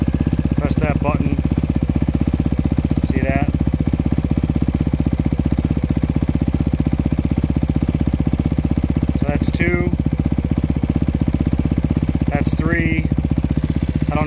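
A 2019 Honda CRF250R dirt bike with an FMF exhaust idles steadily nearby, a loud even single-cylinder putter that holds constant throughout, while a few faint chirps come and go in the background.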